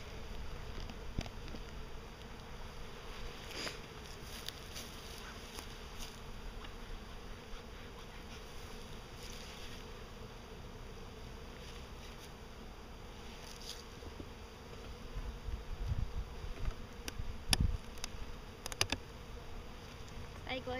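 Honey bees drone and buzz steadily from an opened beehive during a February hive check, a soft continuous hum with a few individual bees passing close and a slight swell near the end.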